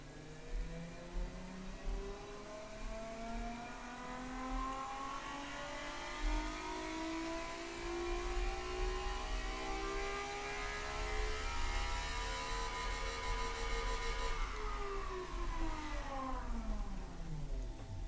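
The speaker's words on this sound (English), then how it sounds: "That's what I call a V6 sound." A naturally aspirated 2-liter V6 in the Automation car-building game revs hard toward 8800 RPM, its engine note climbing steadily and then dropping back, loud and continuous with a faint underlying hum and no talking.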